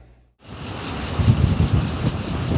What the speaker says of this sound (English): it is a very windy and cold day here